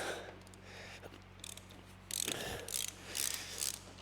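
A manual ratchet wrench is turned by hand while working on a 1942 Caterpillar grader, giving bursts of rapid clicking pawl sounds, close and distinct, over a low steady hum.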